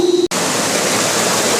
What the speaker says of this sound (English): This is where the clarifier water comes through.